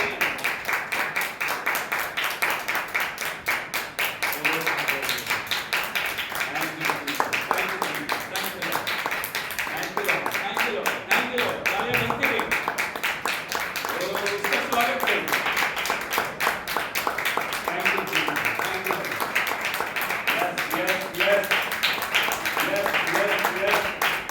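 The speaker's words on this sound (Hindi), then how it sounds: "ताली बजा के हम प्रभु के नाम की तारीफ करते हैं।" A church congregation at a Hindi-language worship service claps hands in praise, a steady, rhythmic, even beat that continues throughout while voices speak or sing over it.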